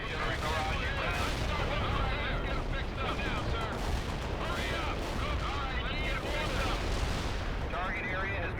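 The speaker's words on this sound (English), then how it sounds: "Artillery barrage inbound." Sustained artillery barrage in the real-time strategy game World in Conflict, a dense continuous roar of overlapping explosions and gunfire that stays loud throughout.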